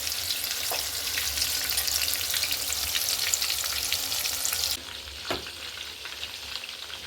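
Battered chicken pieces frying in a pan give a steady, loud sizzle with crackling bursts throughout, dropping slightly quieter near the end as the pieces are stirred and turned.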